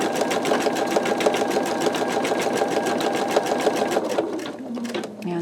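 Computerized embroidery machine rapidly stitching a skull design, a steady dense chatter of needle strokes that runs loud and even, then slows and winds down near the end.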